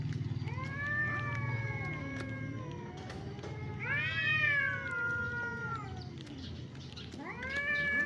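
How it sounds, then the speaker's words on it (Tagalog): Two cats fight, trading drawn-out rising and falling yowls and meows, loud and close, with overlapping cries in the middle and again near the end. "May dalawang pusa nag-aaway."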